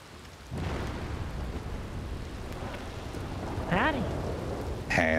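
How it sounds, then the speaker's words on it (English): Steady rain pouring in the video game Red Dead Redemption, a dense hiss that swells after a quiet start, with a voice briefly rising over it near the end. "Oh, gee, look at that rain."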